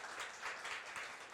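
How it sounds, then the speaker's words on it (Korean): Steady applause from an audience at a Seoul career and job experience program results presentation, a continuous crowd of hands clapping with no voices over it. "함께 해 주신 여러분들께도 큰 박수 부탁드립니다"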